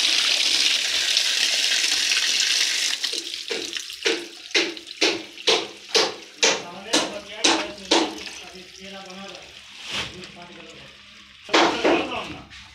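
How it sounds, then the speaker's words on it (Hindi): A submersible borewell pump sends water gushing into a tank at a building site, a loud rushing flow at first that then breaks into a series of rhythmic surging spurts, with people talking nearby. "अब ये समरसेबल चालू भी हो चुका है, पानी भी आ चुका है इसके अंदर में"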